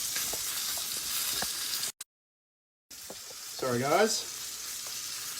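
Duck breasts stand on their sides and sizzle in a pan with a steady close frying hiss and light clicks. The sound drops out completely for about a second, then a voice speaks briefly over the sizzle.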